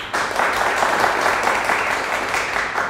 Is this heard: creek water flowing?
no